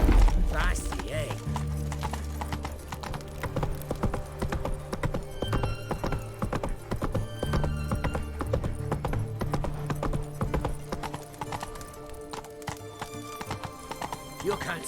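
Roach the horse gallops in The Witcher 3 with rhythmic clip-clop hoofbeats and a whinny near the start, all under steady game music and occasional speech.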